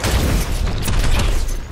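An EMP charge ability set off in the hero shooter Overwatch, a dense, sustained electrical burst with rumbling low boom and crackling highs, loud and continuous throughout the short moment.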